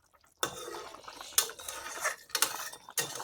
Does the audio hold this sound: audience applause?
no